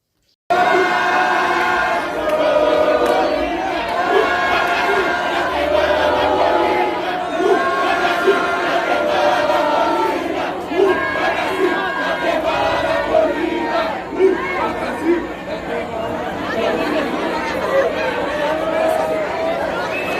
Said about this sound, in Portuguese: Vou deixar aqui também agora um vídeo para mostrar a torcida, a verdadeira torcida do Vasco em todo o Brasil.